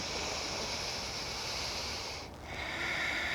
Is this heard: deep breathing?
yes